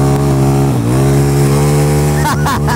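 A Yamaha Mio scooter bored to 300cc races at speed, its engine holding a loud, steady drone that dips briefly, then flutters and revs near the end, with talk over it.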